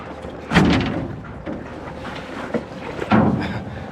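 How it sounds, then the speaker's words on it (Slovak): A boat bumps into a neighbouring moored boat on a river in Laos, two dull hollow knocks a few seconds apart over quiet water and background murmur. "Trošku sme zramovali vedľajšiu loď"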